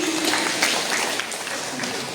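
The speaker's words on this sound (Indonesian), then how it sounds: "Sekali lagi kita tepuk tangan dong untuk kita sendiri." Audience applause fills a conference plenary session hall in Indonesia, a dense and steady clapping from many people throughout, with a voice faintly mixed in.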